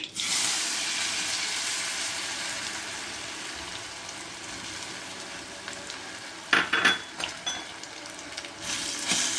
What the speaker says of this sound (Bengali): কলাগুলোকে নাড়াচাড়া দিয়ে ভেঙে নিচ্ছি।